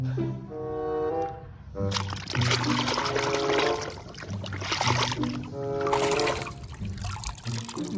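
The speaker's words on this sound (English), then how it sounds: "Let's wash it with clean water." Clean water poured and trickling over muddy toy cars during washing, splashing and dribbling in several bursts close by, with a voice and tonal sounds mixed in.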